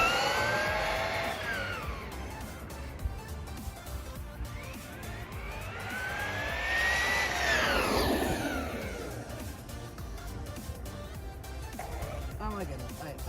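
A Traxxas Rustler 4x4 VXL RC car makes speed passes, its high electric motor whine rising and falling in pitch as it races by twice, with a fainter whir in between.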